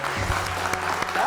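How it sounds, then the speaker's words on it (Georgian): An audience claps briefly during a school book quiz contest between two schools, a short burst of applause mixed with a voice in the background. "აპლოდისმენტები"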